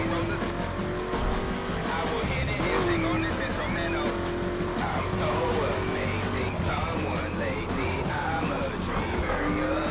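A car races in the video game The Crew with a loud, continuous engine roar, rising and falling revs and occasional tire squeal, while someone talks over the driving.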